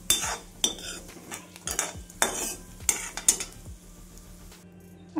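A spatula stirs two cloves and a cardamom pod roasting in a kadhai, giving repeated metallic scrapes and clinks in an uneven rhythm over a quiet, faint sizzle.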